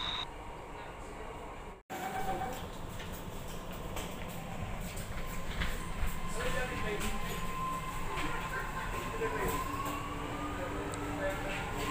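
Lucknow Metro train running after boarding, a steady rumble and rolling drone from inside the carriage with faint higher squeals and tones, briefly cut near the start, then continuous and moderately loud.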